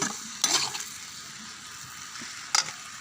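Food frying in a pan, seasoned with turmeric, is stirred in two brief scraping strokes over a soft steady sizzle, close by and with no talking.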